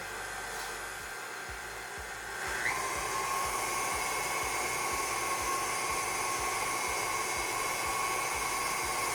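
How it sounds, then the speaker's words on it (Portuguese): An electric mixer whirs steadily through a cheesecake cream mixture as condensed milk is added little by little. The motor hum grows a bit louder after a couple of seconds, then holds a constant, close whine with no talking. "a gente tem que ter bastante calma e bater bem essa mistura antes de colocar os ovos"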